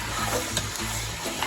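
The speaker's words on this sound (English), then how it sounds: "So guys, now let's fry our meat." Steady crackling sizzle of lamb meat frying in a hot pan, close and continuous with a few louder pops.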